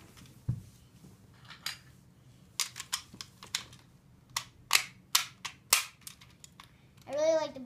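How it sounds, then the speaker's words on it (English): Sharp plastic clicks and snaps as a disc is handled and pushed into a Power Rangers Super Samurai Black Box Morpher toy, a string of separate clacks, followed by a short warbling electronic tone from the toy. "So, I'm going to put a disc in."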